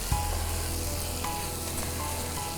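Steady, loud sizzling as about half a cup of water hits hot fish masala in a pan, a continuous crackling hiss with no talking.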